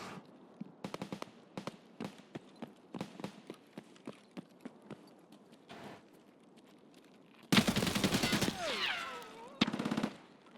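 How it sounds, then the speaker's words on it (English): Submachine gun fire from a PPSh in the game Escape from Tarkov: repeated bursts of rapid shots, some near and some distant, with a loud dense stretch of fire late in the clip. "That sounds like a PPSH somewhere."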